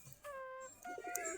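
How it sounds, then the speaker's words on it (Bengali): Native Bangladeshi Giribaz pigeons coo softly at midday while feeding, two or three short murmuring calls close by with brief gaps between them. "আমাদের কবুতরগুলা এখন খাবার খাচ্ছে দুপুরবেলা। আমাদের দেশি গিরিবাজ কবুতর"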